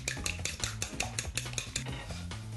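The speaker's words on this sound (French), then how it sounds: "Assaisonnez vos œufs de sel et de poivre et battez de nouveau." Seasoned eggs for a potato tortilla are beaten briskly in a bowl, giving a quick, even run of clinking taps with no talking.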